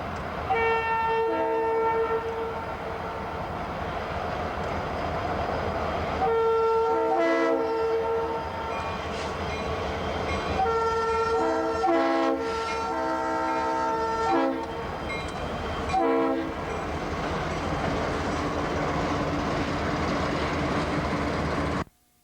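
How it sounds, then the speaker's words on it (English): A Union Pacific freight train rumbles steadily into Salt Lake City in winter while its horn sounds repeatedly in long, loud blasts, the engine roar continuing between the calls. "let's watch as this Union Pacific train comes into Salt Lake City in the wintertime"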